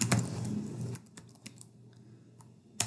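Keystrokes on a computer keyboard entering a web search, a short burst of close clicks that starts under a dense rush of noise, then sparse separate taps in a quiet room.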